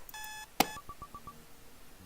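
An alarm clock in the video game Butterfly Soup gives a short electronic beep, followed by a sharp tap and a quick run of five faint, evenly spaced bleeps.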